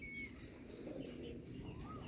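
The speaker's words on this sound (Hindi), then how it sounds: "ये सारे नवे कबूतर" White pigeons coo softly and steadily at a village bird enclosure, a low, continuous murmur with no talking over it.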